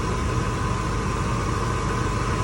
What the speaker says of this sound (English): the truck is idling